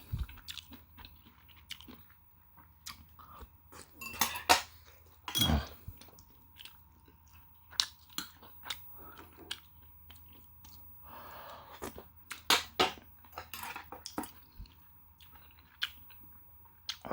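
Someone eats a home breakfast of mushroom doenjang stew and rolled omelette, with close, quiet chewing, crunching and soft mouth sounds in irregular bursts, plus a few faint clinks.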